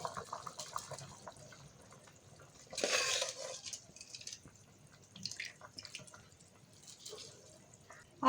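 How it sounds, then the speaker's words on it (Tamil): Soaked rice drops into a pot of boiling water for biryani, making a brief splash and pour around the middle, with faint drips and quiet kitchen clinks around it. "இப்போ அரிசியை எடுத்து போடுறேன்"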